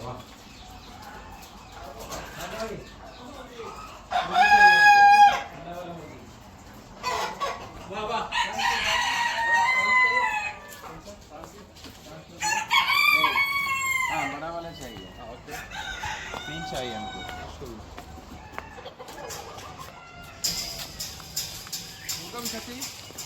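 A rooster crows several times and chickens cluck around it on a poultry farm, with loud nearby calls standing out among quieter background fowl and intermittent human talk.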